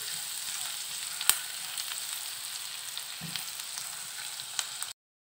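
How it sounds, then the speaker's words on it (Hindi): Chopped ginger and garlic sizzle steadily in hot oil, a soft continuous crackle with one sharp clink of a utensil against the pan. "इसको हम थोड़ा सा इसमें फ्राई करेंगे।"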